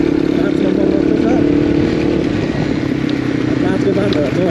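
A motorcycle rides along a rough rural road near Bamti Bhandar, Ramechhap, its engine droning steadily and loudly throughout, overlaid with rattling and wind noise while a rider talks over it.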